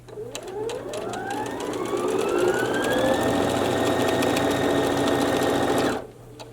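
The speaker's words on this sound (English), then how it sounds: "I'm going to backstitch just a bit, and then we're going to sew right down the edge of that line." A domestic sewing machine backstitches and then runs along the edge of a placemat seam, its motor whine ramping up in pitch and holding a fast, even buzz before stopping abruptly, close and loud.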